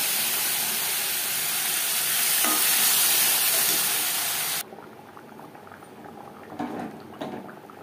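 Taro curry hits a hot pan with a loud steady sizzle for several seconds. The sizzle then cuts to a much quieter simmering bubble with a few soft stirring clinks.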